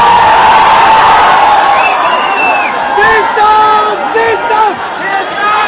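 A large crowd at a late-night event in Patna shouts and cheers, a loud, dense wash of voices with scattered whoops and yells rising and falling over several seconds.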